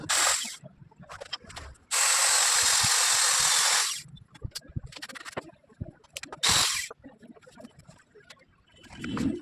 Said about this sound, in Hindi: ये जो रहेगा 35 mm का ड्रिल बिट से यहाँ पे होल करेंगे।